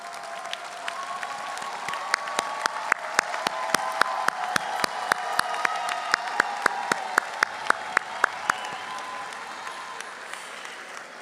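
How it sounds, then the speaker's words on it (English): Audience at a graduation ceremony for a young women's college preparatory academy applauds steadily, a dense wash of clapping with a few sharp, louder claps standing out near the front, sustained without speech over it. "Parents, please stand and let us give them a round of applause."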